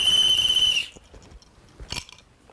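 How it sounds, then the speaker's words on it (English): A shrill whistle blast holds for under a second, then cuts off, followed by quiet with a few faint clicks and a brief breathy burst. "What kind of whistle is this?"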